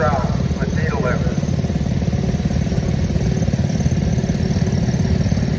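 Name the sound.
1965 John Deere 110 garden tractor engine running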